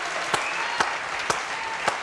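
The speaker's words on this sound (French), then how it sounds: "applaudissement pour Grâce de Capitani" Studio audience on a French TV show clapping steadily, a dense even patter of many hands with a few sharper individual claps standing out, loud and close.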